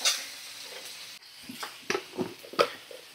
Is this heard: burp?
no